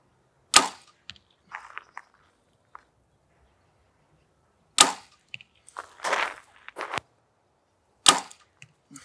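Three Grim Reaper three-blade fixed broadhead arrows are shot one after another, each a sharp release snap followed by a brief whoosh and thud, spaced several seconds apart with quiet gaps between.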